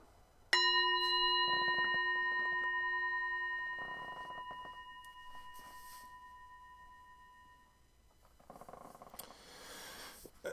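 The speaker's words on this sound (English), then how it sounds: "So I'm going to ring the bell." A single bell strike rings out clearly and decays slowly over several seconds, with faint rustling in the quiet room around it.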